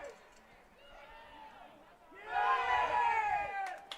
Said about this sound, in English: Got a Go Bears chant going on.